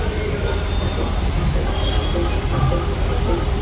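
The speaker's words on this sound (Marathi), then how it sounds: "इंजिन आलेली आहे" A train engine pulls into a station with a loud, continuous rumble of wheels and machinery that holds steady throughout, while faint voices murmur in the background.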